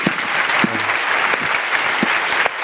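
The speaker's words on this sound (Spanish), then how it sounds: "el aplauso es unánime de toda la gente" Audience applause at a live podcast recording in Murcia, a full, steady wash of clapping from a seated crowd filling the room, close and loud, with a few louder individual claps standing out.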